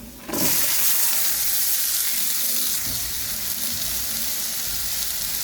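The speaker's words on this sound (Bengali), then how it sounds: "পেঁয়াজটা ভাজা হয়ে গেলে করলাগুলো দিয়ে দিব" Onion and bitter gourd hit a hot pan and a loud hiss erupts at once, then settles into a steady, close sizzle that holds to the end.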